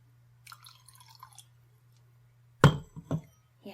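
Cabernet Sauvignon red wine from King City, California pours into a glass at close range: a faint trickle first, then a sharp clink and splash, and a second short pour near the end.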